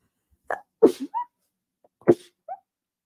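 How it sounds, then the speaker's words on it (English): One person sneezes close to the mic in a quiet room, a sharp burst with a short catch of breath before it, then a second sneeze and a faint sniffle afterward. "Sorry, I'm going to sneeze."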